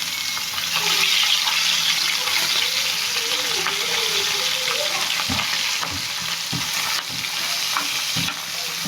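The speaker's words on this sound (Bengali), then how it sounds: "মাছটা উল্টায় নেব, হালকা ভাজবো, বেশি ভাজলে আরো মজা লাগে না" Gulsha fish frying in oil in a pan makes a loud, continuous sizzle close by, with a few clacks and scrapes near the end as the pieces are turned.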